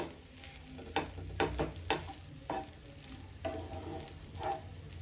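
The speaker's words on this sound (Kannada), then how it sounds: "ಇದು ಫ್ರೈ ಮಾಡಬೇಕಾದ್ರೆ ನಿಮಗೆ ಆ ಚಟಪಟ ಸೌಂಡ್ ಕೇಳಿಸ್ಬೋದು" Basmati rice fries in oil for veg fried rice, a soft steady crackling sizzle with occasional stirring scrapes and pops, close but fairly quiet.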